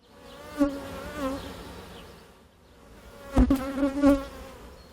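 Honey bees buzz steadily around a beekeeper at backyard hives, a close, continuous drone with wavering pitch and louder swells as individual bees pass near.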